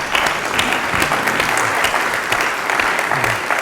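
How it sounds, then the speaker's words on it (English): An audience at an intimate food conversation event in Maine applauds Evelyn with steady, dense clapping that stays loud and even throughout. "round of applause for Evelyn there"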